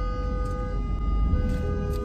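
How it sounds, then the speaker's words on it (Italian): A car horn sounds in a sustained, steady tone over low traffic rumble, fairly loud and close. "Bello questo suono di clacson, molto bello."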